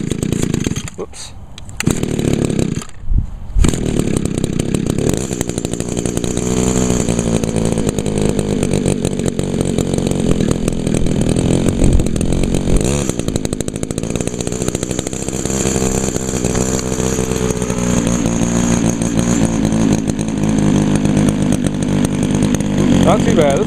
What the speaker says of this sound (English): This has always been a good trimmer.